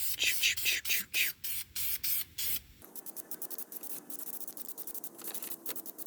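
Krylon International Harvester Red spray paint going on as a light dust coat: a string of short, close hissing bursts, then a quieter steady spray with faint ticking and rustling behind it.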